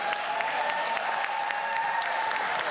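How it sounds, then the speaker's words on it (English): An audience at a church conference applauds in a continuous wash of clapping from many people, steady and even from start to end, with a faint tonal hum underneath. "Thank you for that round of applause"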